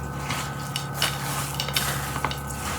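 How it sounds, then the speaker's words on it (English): A spoon works through thick chicken pot pie filling with vegetables in a big pan, making soft, irregular scraping and squelching strokes that are faint and close, with no talking. "So just mix it all in."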